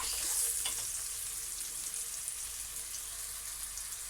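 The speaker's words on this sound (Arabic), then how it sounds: "البصلايه بتاعتي طبعا مش هنحمرها قوي عشان المسقعه بتاعتي ما تبقاش حمر" Sliced onion sizzles in oil in a pan for Egyptian moussaka, a steady close crackle that stays even throughout. No one speaks.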